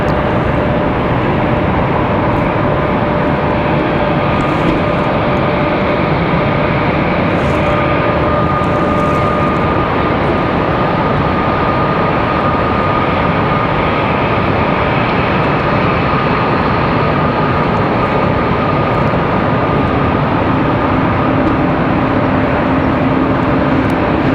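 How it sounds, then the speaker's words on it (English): A Delta Airbus A220 jet at Raleigh-Durham airport gives a steady loud roar that holds without a break for the whole stretch, with a faint whine riding over a broad rumble. "The Delta A220 you're hearing"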